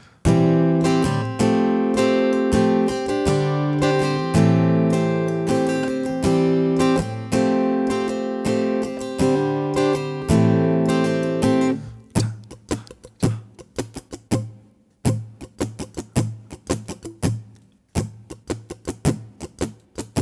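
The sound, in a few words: guitar strumming pattern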